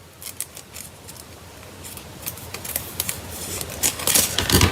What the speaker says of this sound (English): I'm gonna take my scissors and actually cut part of the flap off